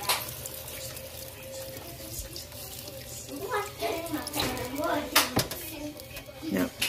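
Liquid pours into a pan in a home kitchen while a Thanksgiving roast is being prepared, a soft splashing trickle amid clinking dishes, under intermittent talk.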